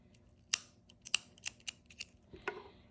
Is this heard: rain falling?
no